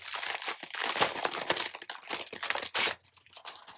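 Plastic cash budget envelopes with snap closures are handled up close, giving continuous crinkling and rustling with brief louder crackles.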